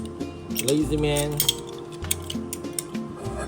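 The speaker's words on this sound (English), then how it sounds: "Using a garlic press is easier, right?" Metal clicks and clatter of a garlic press crushing garlic in a home kitchen while cooking braised pork belly, short scraping and tapping sounds with a low hum underneath.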